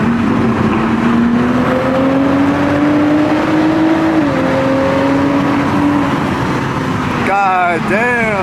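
A stock Toyota Supra engine drones loudly and climbs steadily in pitch as it pulls, dips briefly midway, then revs sharply up and down near the end, with voices audible alongside.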